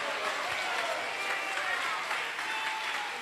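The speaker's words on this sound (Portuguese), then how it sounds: "Eu quero que vocês desocupem as mãos, batam palmas e glorifiquem a Jesus" Dense, steady applause from a church congregation clapping hands, continuous and fairly loud throughout with no pauses.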